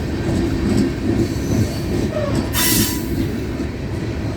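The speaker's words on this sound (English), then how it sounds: "All right, big train today." An FEC 101 freight train hauling empty garbage cars behind two locomotives rolls past close by, a steady loud rumble of wheels on rail with a brief hissing burst midway.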